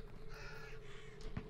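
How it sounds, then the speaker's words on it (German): Ravens caw in the video game Hunt Showdown, a couple of harsh calls near the end over a constant ambient wash of game atmosphere. "Und hier die Raben, alles macht Lärm."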